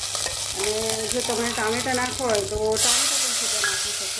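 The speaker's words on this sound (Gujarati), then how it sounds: "એમાં આપણે લીમડો એડ કરી લઈશું" Curry leaves hit hot oil already crackling with mustard and cumin seeds, sizzling loudly and steadily throughout, with a speaking voice over it and a brief burst of hiss near the end.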